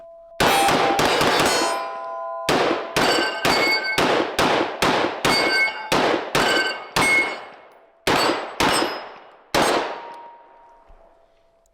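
MK-47 rifle shots hit an aluminium ball in a video game, sharp ringing metallic clangs in a single burst then a steady series of about a dozen evenly spaced hits, each decaying with a bell-like ring.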